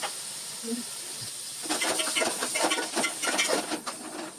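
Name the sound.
eggplant pieces frying in oil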